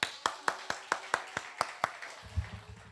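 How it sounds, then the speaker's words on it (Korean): Claps from a church prayer meeting congregation, about eight sharp, evenly spaced hits in quick succession before a low murmur takes over. "박수 쳐줍시다."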